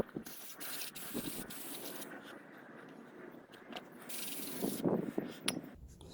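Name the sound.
spraying brake cleaner on car brake caliper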